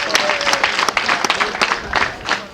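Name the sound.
wedding guests applauding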